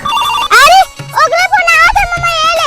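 A phone ringtone plays during a call, a repeating tonal melody over a few seconds, loud and close, with a voice speaking over parts of it.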